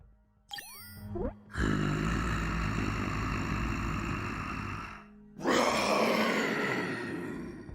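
Two long, loud, harmonic roars from a T-Rex in a video game: a brief sharp sound first, then a sustained roar lasting several seconds and a second roar that rises and fades.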